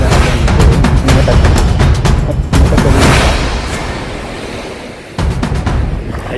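Ocean waves break on a sandy beach at Nasugbu, Batangas, in a loud, continuous surging wash with heavy wind buffeting the microphone and a brief lull before the surf rushes back in.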